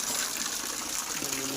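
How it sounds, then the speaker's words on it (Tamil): Rainwater after a heavy downpour in Agaram, Tirumala, gushes and flows in a continuous rushing wash, steady and fairly close, with no clear break in the sound. "இப்போ நான் பின்னாடி அப்படியே மழை பெஞ்சு விட்டு தண்ணி காட்டுறேன் பாருங்கள்"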